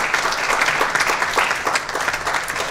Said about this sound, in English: So why don't you give them their due applause for the wonderful job that they've done.